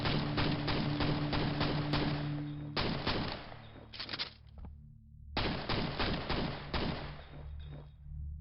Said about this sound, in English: This pistol is like so much better than the standard Quake shotgun.